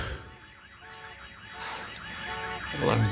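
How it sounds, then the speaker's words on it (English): Alarm ringing in a Remedy video game, a repeating warbling electronic tone held steadily throughout, with a brief louder noise burst near the end. "That alarm's not gonna make my life any easier."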